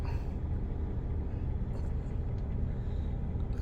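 Steady low rumble of an engine heard from inside a running car, constant and close with no breaks, faint higher rattles over the drone.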